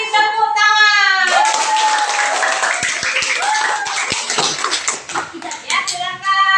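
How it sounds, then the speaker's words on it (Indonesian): A classroom of students claps hands together, a burst of rhythmic clapping mixed with children's voices and chatter, loud and close, with sung or called-out tones over the claps. "mari kita beri tepuk tangan"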